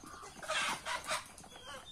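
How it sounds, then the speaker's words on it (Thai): Chickens on a home farm where ducks and chickens are raised cluck in a few short, close bursts, with faint background noise. "นี่ครับเป็ดไก่ที่เราเลี้ยงก็ให้เขากินดีอยู่ดีนะครับ"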